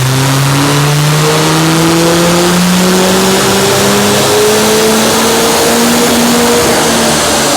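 An RT330 engine with a Stage 4 Revo tune roars on the dyno, its pitch climbing steadily through a single long, loud rev as the run pulls hard to the top, with no voices.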